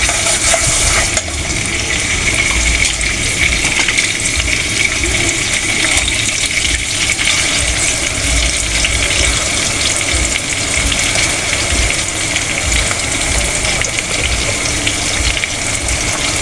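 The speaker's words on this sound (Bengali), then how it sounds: "কড়াইটা বসা দিয়েছি পেঁয়াজটা দিয়ে দিয়েছি তেলটা দিয়ে দিচ্ছি" Onion fries in oil in a wok for duck biryani, a loud, dense, continuous sizzle and hiss that stays close and even from start to finish.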